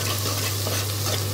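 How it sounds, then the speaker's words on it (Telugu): Curry leaves frying in hot oil while being stirred, a dense close sizzle with a steady low hum beneath and faint scraping, continuous and loud for a brief moment. "మనం కరివేపాకు కూడా వేసుకున్నాను."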